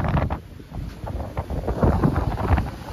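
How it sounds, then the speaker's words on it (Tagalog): Strong wind buffets the microphone aboard a U.S. Navy ship in rough seas, a gusting, rumbling roar that rises and falls throughout with no talking. "Medyo maalon tayo ngayon"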